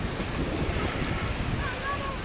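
Low-tide ocean surf at a beach in Cronulla, New South Wales, heard as a steady broadband wash of waves mixed with wind buffeting the microphone.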